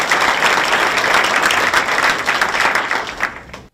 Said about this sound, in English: So give our two college presidents a round of applause for being here.